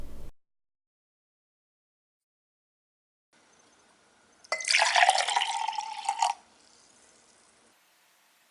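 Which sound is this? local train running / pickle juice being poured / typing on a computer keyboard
pickle juice being poured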